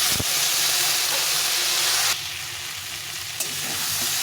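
Cumin powder and chili powder sautéing in hot oil in a pan, a dense, loud, steady sizzle close up that drops slightly in intensity partway through, with no talking.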